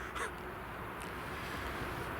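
A crow caws twice, a sharp call near the start and a fainter one about a second later, over a steady wash of outdoor background noise.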